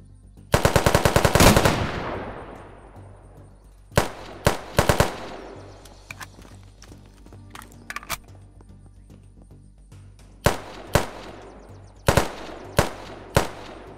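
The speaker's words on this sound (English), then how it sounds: "Alright, who just shot at me?" Gunfire in the video game Unturned with the Unturnov mod: a loud, rapid automatic burst up front, then scattered single shots and short pairs of shots ringing out over the following seconds.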